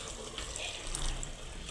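Water poured into a plate set on a pressure cooker while cooking mutton, a short continuous splashing trickle, close and moderately quiet, with no talking.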